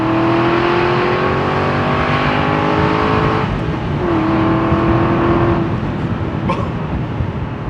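An Aston Martin V8 Vantage Volante drives along with a steady, loud engine drone heard from onboard, the pitch dipping briefly as it shifts gear and then holding even again; no one talks.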